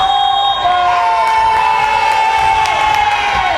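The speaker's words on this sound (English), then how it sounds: "Crowd goes crazy." A school volleyball crowd erupts in loud cheering and shouting after a point, sustained excited voices filling the gym with whistle-like tones running through, close and energetic throughout.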